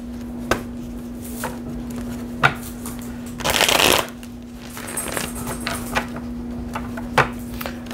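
Tarot cards are shuffled in a close, quiet room, with scattered soft riffles and taps and one dense burst of shuffling over a steady low electrical hum.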